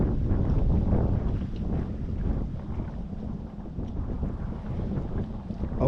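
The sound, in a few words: northeastern wind gusting over water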